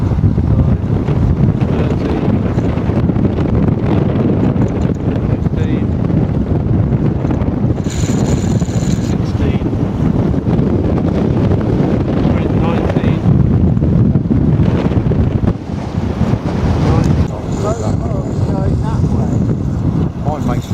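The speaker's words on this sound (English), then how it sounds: "Wait until the wind gets us." Strong, steady wind rushes across a microphone out on a lake during model boat tests, a dense roar running throughout with brief talk mixed in.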